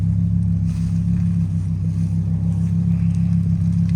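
Lamborghini engine at cold start, a deep, steady, loud rumbling idle that holds evenly throughout, close by with no talking.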